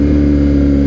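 BMW R nineT motorcycle fitted with an Akrapovic exhaust, revving loud and close, a deep continuous engine roar that holds steady throughout the short burst.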